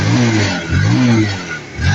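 A Rouser 180 motorcycle engine, just repaired, runs and revs in quick swells, rising and dipping about three times in two seconds. The engine is loud and close, with no talking.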